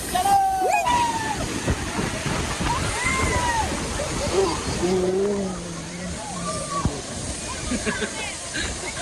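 Steady roar of the Kangthi Langso Waterfall in Kangthi, Karbi Anglong, pouring from above, with loud, excited voices talking and calling over the rushing water throughout.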